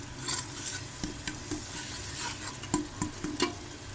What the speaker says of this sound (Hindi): अब इसको चम्मच हिलाते जाएंगे ताकि इसकी थोड़ी सी भुनाई हो जाए